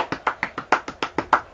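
Hand clapping, about ten crisp claps in a quick steady rhythm, close and fairly quiet with nothing else heard.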